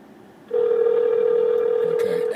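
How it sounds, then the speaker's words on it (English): A Mercedes-Benz E300 voice command system dials a phone call, giving a steady, loud electronic tone that holds unbroken for about two seconds after a short quiet lead-in, clear and close inside the car. "dialing."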